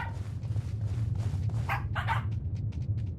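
A dog barks and yips repeatedly in a video game, a burst of short, bright barks near the middle over a steady low game hum, with lighter yips trailing off at the end.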